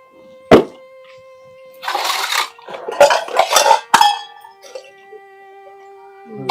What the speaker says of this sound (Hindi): बनाऊं बाबू पहले बर्तन धो लूं